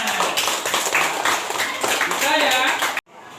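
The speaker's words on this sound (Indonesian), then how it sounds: "beri tepuk tangan" Classroom hands clapping for a pupil, a dense rapid patter of claps from many children running under lively chatter and voices for about three seconds, then cutting off abruptly.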